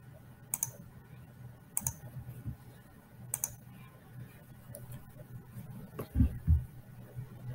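A computer mouse clicks several times at spaced intervals during software configuration, crisp sharp ticks close by over a quiet low hum, with a few soft thumps near the end.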